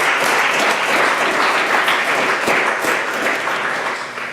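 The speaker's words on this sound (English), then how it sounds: "how about a round of applause for the Brooklyn Historical Society?" A room full of people applauds, a dense steady roar of clapping that gradually tapers off toward the end.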